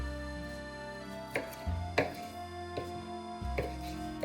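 Knife chopping half-rings of mild Mars onion on a cutting board, a handful of sharp, separate cuts spaced irregularly over a quiet kitchen background.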